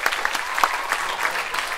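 At a live indie gig, the crowd claps for the band: a short burst of many hands applauding together, even and moderately loud.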